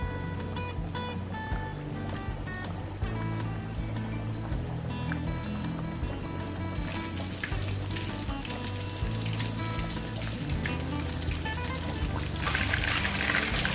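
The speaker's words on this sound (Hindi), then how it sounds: "अब इसमें मैं चिकन को डालूंगी, एक एक करके आपने इसको फ्राई करना है।" Chicken pieces frying in oil in a kadai over a low flame, with a steady dense sizzle that holds throughout and swells louder toward the end, accompanied by a low background hum.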